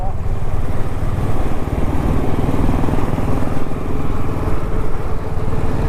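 A motorcycle engine drones loud and steady with constant rumble while riding, heavily loaded with luggage on the road toward Kolkata, and a voice talks over it.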